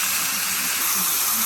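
Continuous loud sizzling of BBQ garlic pork shoulder frying in a hot pan, a steady bright hiss with no pauses.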